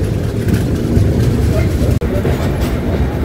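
A train rolls into platform 1 at Tirupati station, a steady loud rumble of rail cars with a faint clickety-clack running throughout and one brief sharp dropout partway through.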